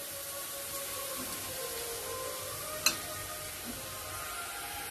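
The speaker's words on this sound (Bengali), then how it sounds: "মূলো ভাজা হয়ে গেছে, লাল লাল করে খুব সুন্দর করে ভাজা হয়েছে" Radish frying in oil sizzles in a soft, even hiss, fairly faint and steady, with one sharp clink partway through and no voices.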